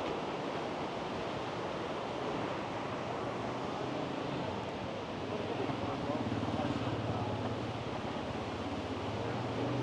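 Water rushes down a mountain stream beside a path in the mountains near Tehran, making a steady, broad hiss that never lets up. A person speaks over the flow.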